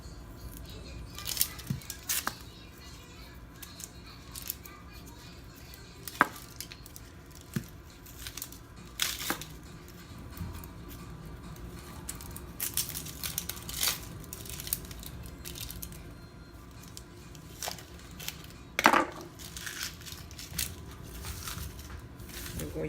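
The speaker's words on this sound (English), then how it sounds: "We're going to cut the onions in slices." A knife slicing onions on a cutting board for bistec encebollado, irregular crisp cuts and soft knocks against the board, close but fairly quiet, with a few sharper chops spread across the stretch.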